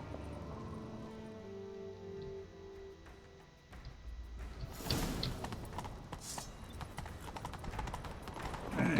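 Horse hooves gallop in The Witcher 3: a soft musical opening gives way, about halfway through, to a loud, dense clip-clop that drives steadily to the end.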